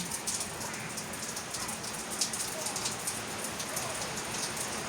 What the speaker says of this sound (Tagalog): Ulan na siya